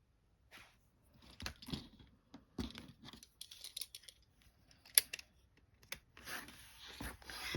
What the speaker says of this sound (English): I just cut one long strip here